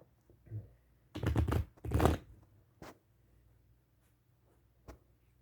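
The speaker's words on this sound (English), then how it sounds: "yes, the cards can be shuffled." Two short bursts of riffling cards being shuffled, close and crisp, separated by a quiet pause, followed by a couple of soft taps.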